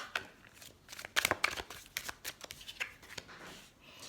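Cards shuffled by hand for a tarot reading, a close run of quick crisp riffles and slaps in an uneven rhythm with no voice.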